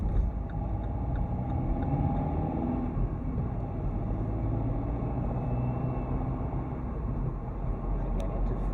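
A car drives along a suburban road in Churchtown, Dublin, during a driving lesson, with a steady low engine hum and road rumble heard from inside the cabin, unbroken throughout.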